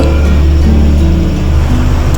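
A bus being driven on its first trip, its engine giving a loud, steady low rumble that stays constant throughout with faint shifting tones and no talking.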